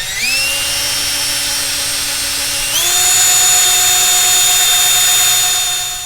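A power drill bores a hole into an EGR port on a 1990–93 Honda Accord F22 engine, a loud, close, steady whine that steps up in pitch partway through with no talk.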